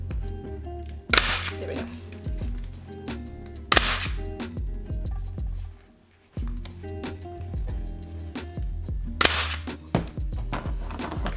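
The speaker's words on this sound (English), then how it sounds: "All I'm gonna do is staple it down." Sharp staple gun shots fire several times, punching fabric down onto a budget DIY bed frame, each crack loud and close with short pauses and quiet handling noises between.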